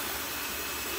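A power drill fitted with a mixer attachment whirs steadily while stirring epoxy resin for a fiberglass layup, a continuous close motor whine with no break across the short moment.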